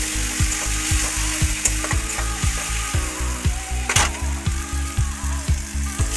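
Ginger paste and vegetables frying in a pan, a loud steady sizzle broken by rhythmic scraping strokes of a spatula, about two a second, close by.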